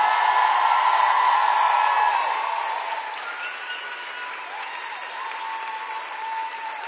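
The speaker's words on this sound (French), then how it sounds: "un tonnerre d'applaudissements pour lui" A live comedy show audience at the Trianon applauds loudly, with scattered whoops and cheers over dense clapping that eases slightly but continues throughout.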